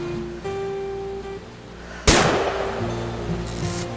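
A single sharp gunshot fired by Dawn in the video game What Remains of Edith Finch, one loud crack about midway that rings out over soft game music.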